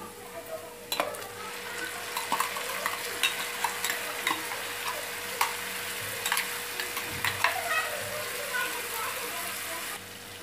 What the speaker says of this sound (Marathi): आता ह्यामध्ये मी टोमॅटोची प्युरी घालते।